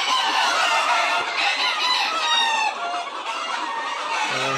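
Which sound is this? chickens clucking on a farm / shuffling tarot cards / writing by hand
chickens clucking on a farm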